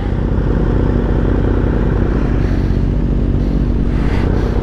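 A Kawasaki ZX6R KRT motorcycle runs close by with a steady, dense engine drone and a rough rumble that holds at an even level the whole time.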